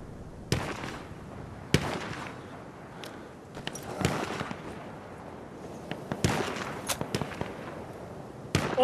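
Artillery fire in the video game Battlefield 1, scattered sharp distant booms and cracks, a dozen or so irregular blasts over a low battlefield rumble, fairly faint.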